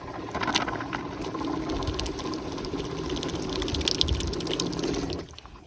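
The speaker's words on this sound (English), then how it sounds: "then I have running water here" Running water from a sink tap in a Honda Element camper conversion, a steady close splashing and pumping rush that holds for about five seconds, then cuts off abruptly.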